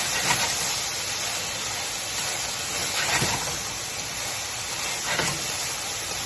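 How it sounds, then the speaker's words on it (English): Beef searing on a hibachi grill, a loud, continuous close sizzle and hiss with faint periodic swells, steady throughout with no talking. "Getting a nice sear on these."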